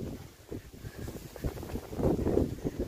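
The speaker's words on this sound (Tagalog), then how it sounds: "ang lakas ng hangin" Strong wind buffets the microphone in rough, rumbling gusts during snowfall in Zagreb, Croatia, swelling louder toward the end, with no clear voices.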